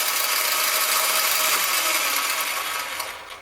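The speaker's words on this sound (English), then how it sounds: "That noise is the gears for driving this." A mini metal lathe with variable speed runs its gear drive, giving a continuous, fairly loud gritty whir and rattle that eases off toward the end.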